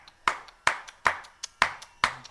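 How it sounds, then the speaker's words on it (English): Hands clapping only the hits of a Carnatic percussion rhythm, six sharp claps in an uneven pattern with gaps between them, close and clear with nothing else around. "So they started clapping only the hits."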